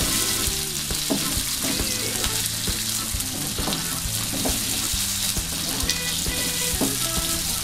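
Chili, bay leaves and galangal sizzle loudly in a pan, a dense continuous frying hiss with frequent stirring scrapes, up close and with no talking.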